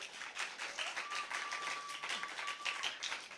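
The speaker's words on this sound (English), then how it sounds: "Round of applause for Synovell Richards Academy, Teresia Desiree" Audience applause after a speech at a school debate competition, a dense, fairly faint patter of many hands clapping steadily, with a thin tone running faintly underneath partway through.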